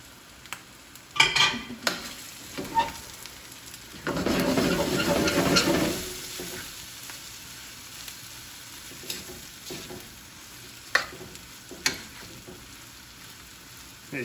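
Steak, rice and sauce are stir-fried in a pan, giving a quiet background sizzle with scattered scrapes and clinks of a utensil and a louder burst of stirring and frying midway.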